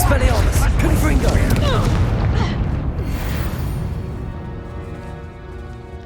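A Confringo fire blast spell goes off in the game Hogwarts Legacy: a loud, booming burst with crackling debris and layered combat noise that rumbles on and slowly fades over several seconds, with a voice heard faintly underneath.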